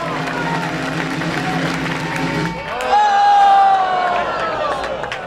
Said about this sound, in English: Ladies and gentlemen, a huge round of applause for Daniel.